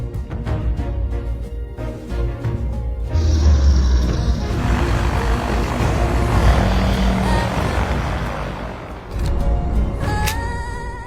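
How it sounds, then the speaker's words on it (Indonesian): Private airplane arriving in an action film, a loud, continuous engine roar that swells midway and holds steady, with film soundtrack sounds around it. "Di sini Lena dibuat terkejut saat melihat kenalan Nomad yang datang menggunakan pesawat pribadi."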